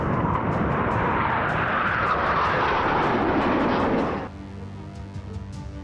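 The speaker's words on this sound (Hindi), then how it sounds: "राजपथ पर गरजा राफेल।" Rafale fighter jet roaring over Rajpath in a Republic Day flypast, a loud, dense, continuous jet roar that cuts off abruptly, leaving quieter background noise with faint sharp clicks.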